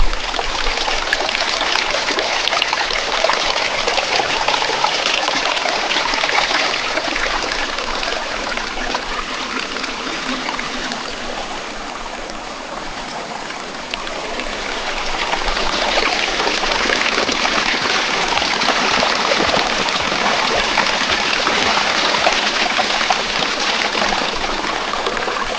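A stream flowing steadily around someone soaking in it, a dense, continuous rush and trickle of water that dips slightly in the middle and then holds steady, close and without any talk.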